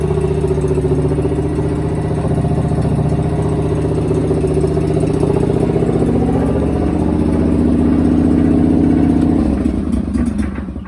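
A John Deere 425 lawn tractor engine idles steadily and loudly up close, a continuous rumbling chug that dips slightly near the end.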